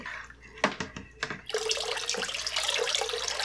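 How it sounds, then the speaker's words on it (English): Water pours into a homemade strawberry jam wine brew, preceded by a few clunks and then turning into a steady, loud, close gushing stream that runs to the end. "Therefore, I'm adding some extra water here."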